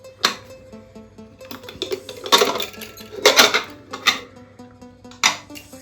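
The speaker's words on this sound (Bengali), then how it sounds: "এখন আমরা কুকারটাকে খুলছি" A metal pressure cooker is opened in a home kitchen, with sharp metallic clanks and clatters of the lid and pot in several separate bursts, close and fairly loud.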